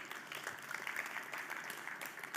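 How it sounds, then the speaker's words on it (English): An audience at a tech conference stage applauds a departing speaker, a faint, distant, even patter of clapping that carries on steadily for a couple of seconds. "let's have another round of applause for Gregory"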